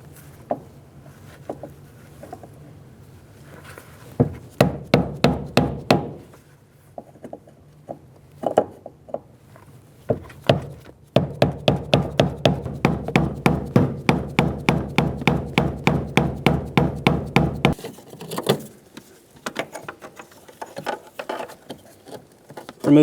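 A series of sharp metallic taps, several quick bursts of rapid repeated strikes with short pauses between, close and fairly loud, as a hammer drives a punch on the fuel pump lock ring of a 2003-2008 Honda Pilot.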